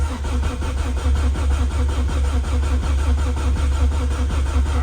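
Engine cranking over on its first start-up after a rebuild, a loud rhythmic starter churn with regular compression pulses continuing steadily for several seconds without catching, close by and with no talking.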